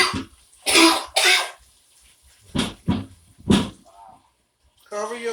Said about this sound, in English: Cover your cough, please.